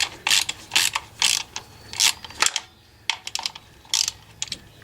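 A ratchet wrench clicks in bursts as it loosens the timing-belt tensioner pulley on a 1975 Subaru engine, with loud, close repeated ratcheting strokes separated by short pauses.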